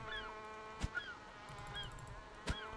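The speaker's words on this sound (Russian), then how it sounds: "Чайка." Seagulls crying in the survival game The Forest, several short descending squawks spaced across the clip over a quiet ambient bed, with a couple of sharp clicks.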